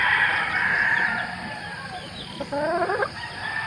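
A hen from a flock bred as fighting gamecocks gives drawn-out, wavering calls followed by a quick run of clucks, close by and set against a constant hissing background.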